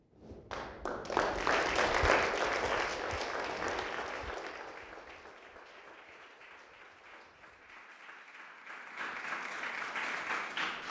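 An audience at a celebration of James Mars's life and legacy applauds after a performance, loud at first, easing to a softer patter, then swelling again near the end.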